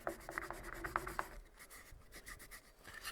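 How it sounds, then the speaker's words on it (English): A damp rag rubs in small circles over the plastic shell of a 1986 Apple mouse, a soft, steady, close scrubbing that continues without pause. "Do that a few times where you have a nice little circle, and just sort of rub it around"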